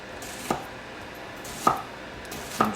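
An onion is chopped with a knife on a cutting board, three sharp, distinct knife strikes about a second apart against a quiet background.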